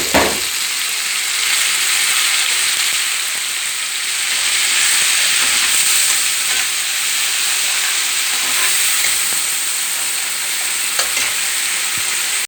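Masala spices fry in a pan with a little added water while making masala paneer, giving a steady close sizzle and hiss with occasional stirring scrapes and no talking.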